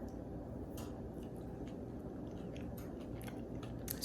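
Close, wet chewing and soft biting of leftover cookie dough, steady mouth sounds with occasional sharper clicks, no talking.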